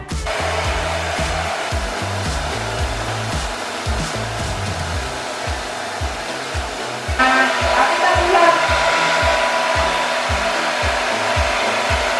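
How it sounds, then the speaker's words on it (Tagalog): A hair dryer blows continuously and loud, its whooshing airflow with a pulsing motor drone, growing slightly harsher partway through. "Kaya i-blower ko na lang"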